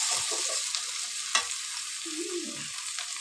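Onions and sliced tomato fry in a pan for a Bengali dish with dried fish and tomato, giving a steady broad sizzle with a sharp clink of the spoon partway through and soft scraping stirs, with no one speaking.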